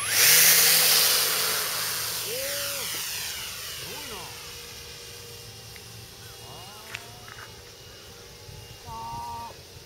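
An electric motor-powered model Zero fighter plane flies overhead, its high motor whine loudest at the start and then fading as it moves away. People talk intermittently beneath it.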